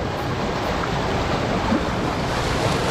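Water rushing steadily along the Mai Khola river on a forest route, a continuous broadband roar with no breaks, fairly close and loud, with no voices heard.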